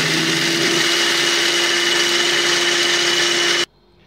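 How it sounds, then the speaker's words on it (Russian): A kitchen food processor grinds four tablespoons of oat flakes with a loud, steady motor whine that runs for several seconds and then cuts off abruptly into near silence. "Я буду молоть 4 столовых ложки овсяных хлопьев"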